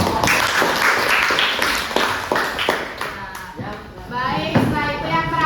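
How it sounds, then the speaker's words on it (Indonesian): A classroom group ends its presentation and the class claps for it. Dense, close clapping runs through the whole moment, with voices heard in the room over it. "Tepuk tangan buat kelompok."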